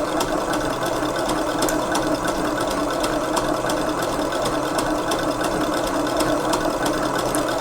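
A stand mixer runs steadily at speed 8, giving a continuous loud motorised whir with a fine rapid mechanical ticking throughout, no voices.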